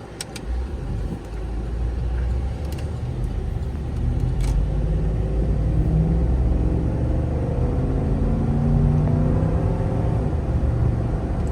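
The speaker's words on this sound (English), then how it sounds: "Nothing like the sound of a nice V8." A 2012 Cadillac Escalade's V8 drones steadily while driving, a deep continuous rumble with road noise that swells slightly as the SUV pulls away, heard from inside the cabin with no talking.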